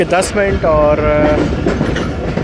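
The 48 Down Rehman Baba Express passenger train on the loop line at Pakdala, running loud and close with steady rail rumble and clatter, while someone talks over it.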